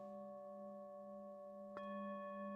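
A Tibetan singing bowl hums with steady, clear overtones, and then a second strike lands, bringing a crisp new ring that blends into the sustained resonance; soft, intimate and without speech.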